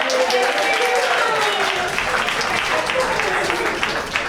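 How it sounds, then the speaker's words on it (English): Steady audience applause at a spoken word poetry slam in Fitzroy Library, Melbourne, fills the whole stretch, a dense wash of clapping with a faint voice or two mixed in underneath. "Let's applaud Milika anyway"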